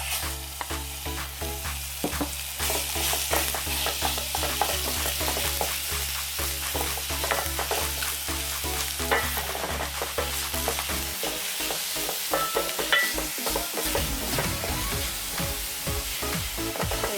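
Minced meat for a samosa filling sizzles steadily in about a teaspoon of oil in a pan, with scraping stirring strokes throughout. The frying stays close and loud with no voices.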